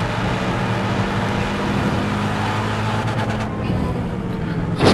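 A Renault Megane R26R engine held in third gear near the rev limiter, a loud, steady, buzzing drone at constant pitch with a slightly rough edge, heard from inside the car.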